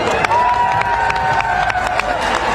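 A live audience at a stage event claps and cheers with loud, steady, dense clapping and crowd noise, bright sharp claps standing out, while a sustained tone hums underneath throughout.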